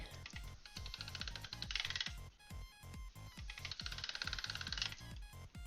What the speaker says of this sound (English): clay machine, clicky noises, yes